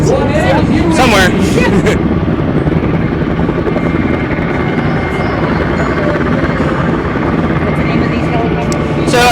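Military helicopters and fixed-wing aircraft at the Kirtland Air Fiesta air show roar steadily and loudly, a continuous thick rotor and engine drone that fills the whole stretch, with a brief voice near the start.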